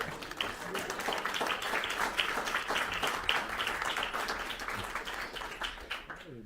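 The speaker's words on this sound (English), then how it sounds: "There's a clap there." Applause from a conference audience at a gathering on freedom and Ukraine, a dense, steady wash of many hands clapping for several seconds, fading toward the end.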